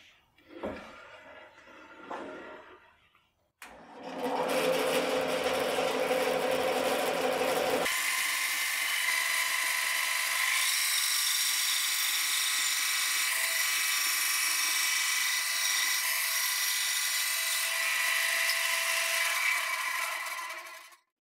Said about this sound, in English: I'll be cutting this out over on the bandsaw.